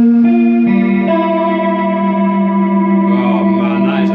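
An electric guitar runs through a Lehle pedal into a wet-dry rig with a Leslie speaker and Peavey Valveking amps, a sustained chord swirling with chorus-like modulation and echo, loud and steady for a few seconds.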